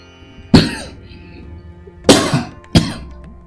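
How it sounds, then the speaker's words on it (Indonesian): A man coughs three times while giving an accreditation presentation at an Indonesian vocational school: one sharp close cough, then a pair of harsh bursts after a pause, with quiet room hum between them. "batuk lagi."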